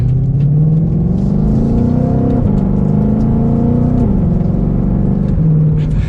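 A 2022 Ford Mustang Shelby GT500 revs hard and accelerates with a loud, steady exhaust roar, pitch climbing and dropping through gear changes, close and continuous.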